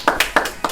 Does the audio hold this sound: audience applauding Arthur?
yes